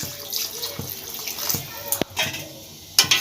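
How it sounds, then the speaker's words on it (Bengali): Water poured into a pan of cooking chicken curry, a light splashing trickle with a few sharp drips and clinks as the liquid hits the pan. "এবার জল দিয়ে দেবো খুব একবারে বেশি জল দেব না"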